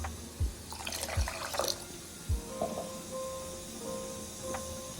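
Water poured from a container onto about a cup of sugar in a pan for syrup, a few short splashy pours and trickles, close and fairly clear, with no talking.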